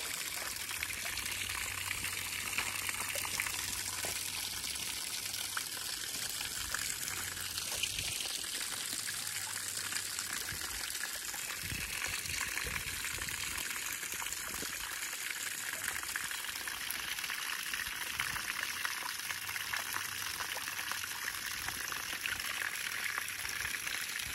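Water flows over a homemade Quikrete rock waterfall fed by a Harbor Freight pump, making a steady, close trickling and splashing wash that runs continuously with no talk.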